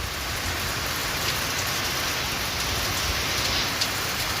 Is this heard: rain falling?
yes